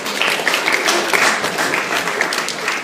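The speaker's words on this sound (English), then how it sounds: "Scattered applause." Scattered applause from a small audience at a youth-wing political debate, steady and close for about three seconds with no voices over it.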